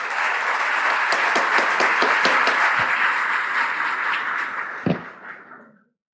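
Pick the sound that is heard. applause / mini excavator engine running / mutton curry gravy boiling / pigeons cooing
applause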